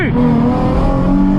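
A Nissan 370Z Nismo launches hard in a race against a Maserati Ginbli, its engine loud and close with a rising rev as it pulls away.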